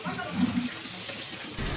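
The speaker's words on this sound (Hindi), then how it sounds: "पानी गिर रहा है मम्मी।" Water runs steadily in a bathroom, a continuous splashing rush heard up close with no clear pauses and only faint background sound.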